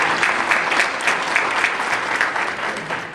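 A symposium audience on disabilities applauds steadily, dense clapping with some cheering filling the room at close range and holding level throughout.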